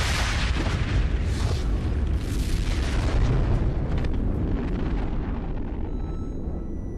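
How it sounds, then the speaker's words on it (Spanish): Nuclear bomb blast from the Apple II test in May 1955, a sustained loud, dense rumbling roar that fills the whole stretch and slowly tapers without breaking. "La explosión debió de llegar hasta aquí y apuesto a que reventó las ventanas."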